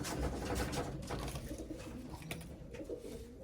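Racing pigeons coo softly and repeatedly in a loft, a faint low murmur under steady background noise.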